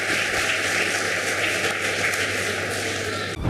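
A hall audience at a Women's Day debate event in Dharapuram applauds actor-director Ramesh Kanna, a steady wash of many hands clapping that continues evenly before cutting off abruptly.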